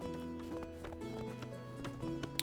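Horses in Medieval Dynasty clip-clop in a stable with straw and hay, making a brisk series of hoof taps over a humming tonal background, fairly quiet throughout.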